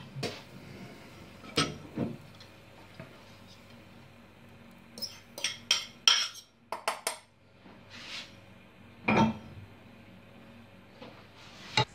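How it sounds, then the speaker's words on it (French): A spoon scrapes and clinks against a frying pan while breakfast ingredients poured in with olive oil are stirred gently, a few sharp scattered knocks and taps, close and fairly quiet. "Après avoir tout versé dans la poêle, on va remuer délicatement."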